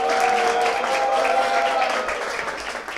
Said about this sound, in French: On applaudit pour Tanti.